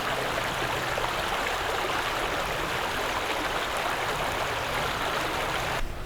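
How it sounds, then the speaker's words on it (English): Steady stream water flowing out of a culvert system at Carvers-Roehl Park, a continuous broadband rush held at an even level throughout, close by and unbroken, with no voices. "they just have a culvert system that empties down and it goes right into the stream, which is over here"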